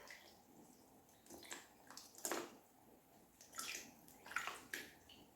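Water sloshing and splashing in short bursts as strawberries are swished and rubbed in a basin outdoors, fairly quiet and close with brief pauses between.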